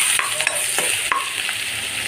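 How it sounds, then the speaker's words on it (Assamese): Turmeric and ginger-garlic paste sizzle steadily in a hot pan while a spoon stirs and scrapes it in several short, close strokes, with no talking. "হালধি তাৰপিছত আকৌ লৰাই দিম আৰু ইয়াতে দি দিম বটি থোৱা আদা নহৰু পেষ্টখিনি"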